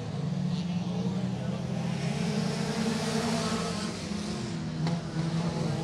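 Race cars roar around a short oval track at a front-wheel-drive feature event, a dense, steady wall of engine noise with a crowd-like wash throughout and no distinct single pass.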